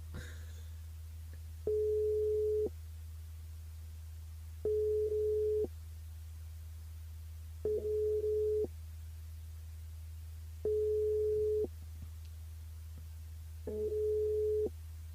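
A steady low tone repeats in evenly spaced one-second pulses, about five in all, over a constant hum, like a telephone line ringing on the other end.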